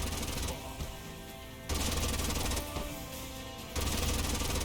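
A Gatling gun firing in the sci-fi strategy game Age of Wonders: Planetfall, with rapid rattling bursts that come in two loud stretches separated by quieter lulls.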